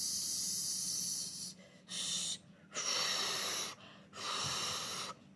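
A person imitates gusting wind with breathy whooshing, three loud sustained blows separated by short pauses, close to the listener in a classroom science lesson about natural sounds.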